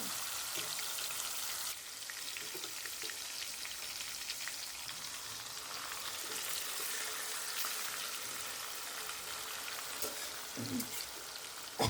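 Marinated fish fries in hot oil spiced with cinnamon, cardamom and cloves, a steady, close sizzle and crackle that continues throughout with occasional louder pops and spatters.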